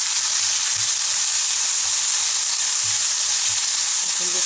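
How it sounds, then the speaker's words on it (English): Vegetables for pasta sautéing in a pan: a loud, continuous frying hiss with faint low scrapes of stirring underneath, steady throughout and heard alone. "we'll saute it for a minute"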